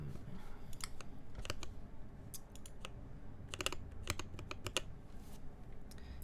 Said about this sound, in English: I can do one more typing test in just a bit